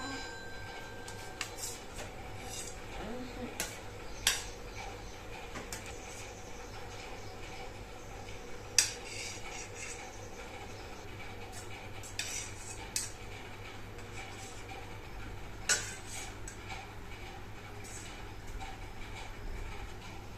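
A spoon mixes chopped onion, raw mango, coriander, masala and crumbled roasted papad in a bowl for chutney, giving scattered light clinks and scrapes against the bowl over a steady low background, with no talking.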